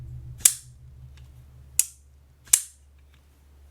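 A Shirogorov F95R Slim pocketknife gives three sharp, crisp metallic clicks a second or so apart, close and loud against near silence, each with a short bright ring.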